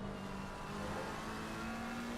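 A McLaren race car engine in a sim racing game at Donington, heard as a steady, loud in-car drone with a slowly rising pitch, running continuously without talk.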